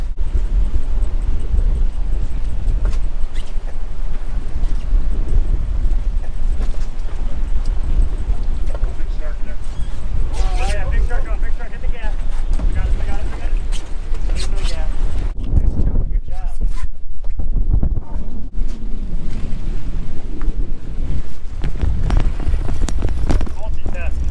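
Strong, steady wind roars across the microphone on a fishing boat at sea, a constant loud rumble with gusty buffeting and faint engine-like drone underneath.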